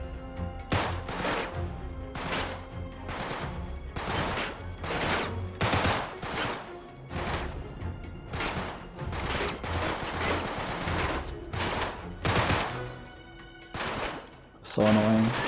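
Enemy gunfire in Uncharted 3: Drake's Deception comes in loud, sharp bursts, a dozen or so evenly spaced volleys repeating across the stretch with brief gaps between them.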